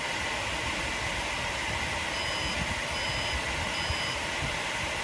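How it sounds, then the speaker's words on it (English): Three short, evenly spaced high-pitched computer motherboard error beeps sound over a loud, constant broadband hum of machinery. "Giving us error beeps and no video."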